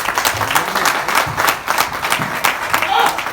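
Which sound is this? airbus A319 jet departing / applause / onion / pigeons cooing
applause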